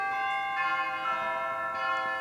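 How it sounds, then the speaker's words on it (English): Tubular chimes on a pipe organ ring out indoors, with several bright, sustained bell-like strikes overlapping and decaying smoothly. "It's a set of beautiful tubular chimes."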